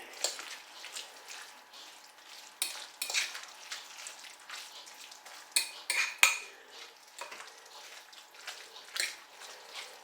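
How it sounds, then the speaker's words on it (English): Herbs and spices being stirred into shepherd's pie filling in a slow cooker, heard as a spoon scraping and clinking against the dish in irregular close strokes, with faint wet sizzling underneath. "Just stir them in."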